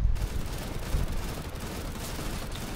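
Rapid gunfire from Counter-Strike: Global Offensive, including a Negev machine gun and a Glock pistol, fills the scene as a dense, continuous barrage of shots with no voices.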